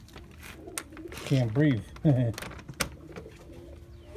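Tippler pigeons in a loft give two clear, close coos with a bubbling, throaty pulse, set among softer rustling and clicks while a person speaks briefly.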